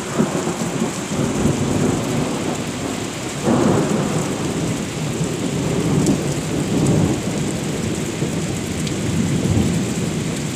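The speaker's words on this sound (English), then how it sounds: "That's the thunder from sheet lightning." Heavy rain hisses steadily while deep thunder from sheet lightning rumbles and rolls in long waves, swelling loudly partway through before easing back.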